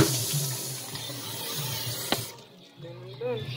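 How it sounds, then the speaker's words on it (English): Tap water runs steadily into a kitchen sink to rinse off greasy cookware used for steak-sauce hamburgers. The flow is close and even, then stops abruptly partway through, and a voice speaks over it. "Rinse this off some."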